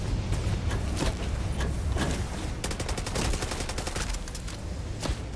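Gunfire in the video game Starfield, with rapid bursts of shots rattling over a dense, loud background rumble, sustained through the whole stretch with flurries of sharp reports.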